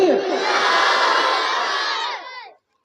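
A large religious gathering roars back a slogan in unison after the takbir call, a loud massed shout of many voices lasting over two seconds before cutting off sharply.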